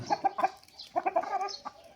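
A Vietnamese-breed rooster clucks in a few short bursts, a quick cluster of calls, then a pause and another run of clucks, fairly close.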